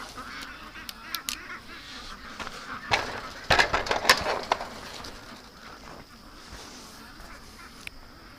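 Flock of about a thousand ducks in a pen, quacking and honking in scattered overlapping bursts that swell into a louder cluster midway before settling back to sparse calls.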